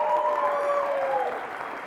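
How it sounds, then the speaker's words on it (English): An audience at a startup founders' pitch competition grand finale claps for the top teams: dense, sustained applause from a crowd indoors, easing slightly toward the end. "I would like to ask one round of applause for all the top teams"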